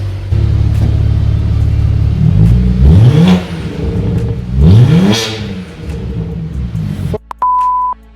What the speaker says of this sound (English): It sounds more like a V8 now.